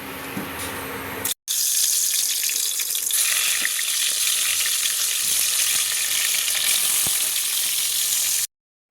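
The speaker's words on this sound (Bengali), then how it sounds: "কড়ায় তেলটা গরম হয়ে গেছে, এই বেগুনগুলো ভেজে নিই।" Eggplant slices fry in hot oil in a wok, a loud, steady, dense sizzle that runs almost without a break after a short pause near the start, with no voices.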